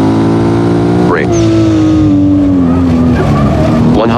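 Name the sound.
race car braking with tire squeal in Assetto Corsa video game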